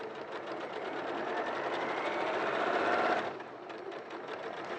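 A sewing machine stitches fabric in a steady, continuous whirring run for about three seconds, then drops to a quieter hum near the end; close and fairly loud, with no talking.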